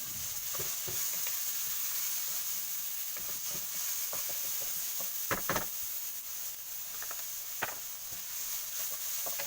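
Onion stir-fried in a pan for kimchi fried rice, a soft, even sizzle with scattered scrapes and taps of a utensil against the pan, faint and close.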